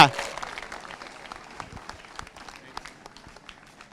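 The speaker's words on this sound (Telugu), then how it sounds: "ధన్యవాదాలు చప్పట్ల రూపంలో గట్టిగా గట్టిగా ఇంకా గట్టిగా." A brief burst of clapping from a small group at an Independence Day police program starts loudly and quickly thins into scattered claps.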